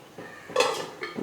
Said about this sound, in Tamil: இப்போ தட்டு போட்டு மூடிடலாங்க.